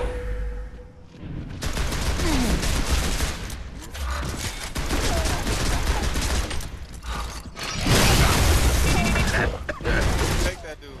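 Gears of War 3 multiplayer gunfire: repeated bursts of rapid automatic shots and loud booms over several seconds, with players talking over the battle.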